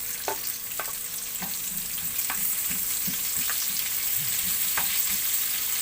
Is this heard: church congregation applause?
no